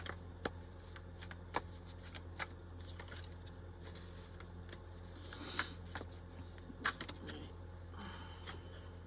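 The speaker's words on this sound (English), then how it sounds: "That card felt like it was sticking to my hand, like as I was shuffling." Deck of playing cards being shuffled by hand, rapid riffling bursts and sharp snaps close by, repeated over several seconds against a quiet room.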